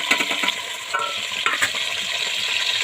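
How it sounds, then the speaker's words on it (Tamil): Chopped onion and green chilli sizzling in hot oil in a pan: a few quick clatters, then an even, moderate hiss close by with nobody speaking. "இப்போ நம்ம வெங்காயம் பச்சை மிளகாய் போடலாம்."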